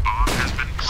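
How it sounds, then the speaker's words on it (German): A flashbang grenade bursts in a tactical shooter game, a loud broadband blast crashing in about a quarter second in and ringing on, with voices talking underneath. "Throwing flashbang."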